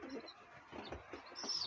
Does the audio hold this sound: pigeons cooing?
yes